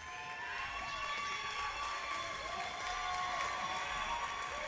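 Crowd cheering and applauding steadily at a women's college basketball game, LA Valley College at Ventura College, in the final minute; a continuous, fairly loud roar of voices and clapping throughout with no distinct speech.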